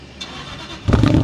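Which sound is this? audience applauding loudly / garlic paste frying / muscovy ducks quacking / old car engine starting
old car engine starting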